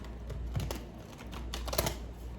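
Quiet, rapid riffling clicks of playing cards being shuffled, a short, busy burst of crisp flutters close to the listener.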